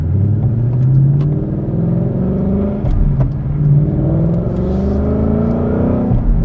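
A 2021 Ford Mustang Mach 1 V8 with the Handling Pack blips and rev-matches through downshifts on a track, loud close engine rising and falling in pitch between brief dips.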